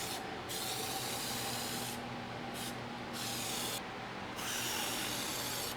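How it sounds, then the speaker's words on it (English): Steady hissing spray from an aerosol can of insulation foam being applied to a garage door, with several brief pauses between bursts, close and fairly loud throughout. "I'm going to spray at an angle because all I need it on is the top of these ridges."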